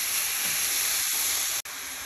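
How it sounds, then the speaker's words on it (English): Meat sizzles in a hot pan for an Italian-seasoned carnivore meal with garlic, a steady broadband frying hiss that stays close and loud throughout, with a brief dropout near the end and no talking. "That meat is looking pretty damn good. Getting that sizzle on it."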